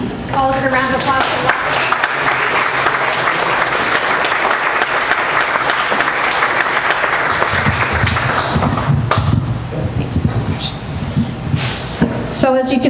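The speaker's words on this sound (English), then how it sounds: "Let's call it a round of applause." An audience claps in a loud, sustained round of applause that lasts several seconds before thinning out. A voice speaks briefly over the start and the end.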